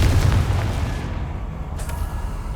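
A Confringo fire spell explodes in Hogwarts Legacy: a loud, booming burst with a heavy low rumble that rolls on and fades over a couple of seconds.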